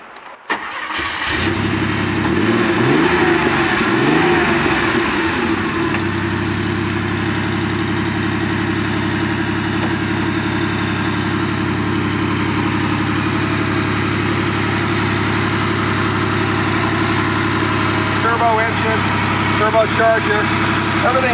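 A stock 1989 Porsche 930 slant nose coupe cranks and fires about a second in, then settles into a steady, loud, close idle that holds through to the end.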